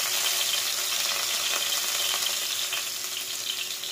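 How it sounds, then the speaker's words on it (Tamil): Chopped garlic and ginger sauté in a pan for spicy noodles, a dense continuous frying hiss with light stirring texture, steady and close, no talking. "இஞ்சி ரெண்டையும் சேர்த்து நல்லா வதக்கிக்கலாம்."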